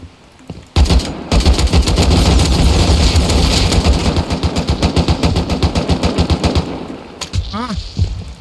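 Rapid bursts of AK rifle fire in the survival video game Rust, loud and close, rattling almost continuously for several seconds before stopping, with a few scattered shots afterward and faint voices near the end.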